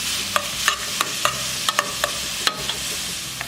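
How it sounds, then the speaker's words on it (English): Onions and ginger fry in a pan under a steady close sizzle, with a spoon tapping and scraping the pan about a dozen times in quick irregular strokes. "So I'm going to cook the onions until they become nice and beautiful golden brown"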